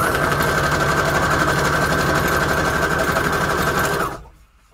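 A sewing machine runs a steady zigzag stitch on craft pockets made from book pages, a loud continuous mechanical whir that holds evenly for about four seconds and then stops abruptly.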